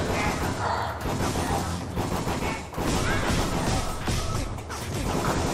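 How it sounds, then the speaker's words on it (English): A machine gun fires in the Ziggurat first-person video game. The bursts are loud, dense and rapid, with a few brief gaps, and no one speaks over them. "we're gonna switch to the machine gun"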